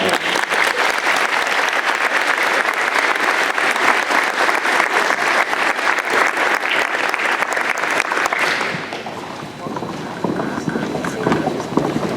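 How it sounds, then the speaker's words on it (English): Sustained applause from an audience at the Louisville awards night, dense and steady for about nine seconds before thinning out toward the end. "let's have a round of applause for the Louisville"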